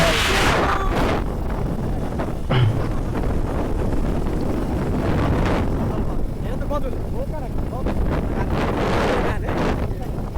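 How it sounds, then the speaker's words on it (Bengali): Steady wind buffeting the microphone, a continuous low roar filling the whole stretch with gusty rises, with faint voices mixed in. "অনেক সুন্দর বাতাস ছিল"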